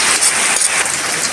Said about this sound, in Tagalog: umuulan na naman, Inday.